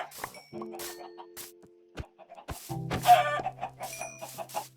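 A video game chicken clucks in short bursts against game chimes and tones, close and moderately loud with no talk.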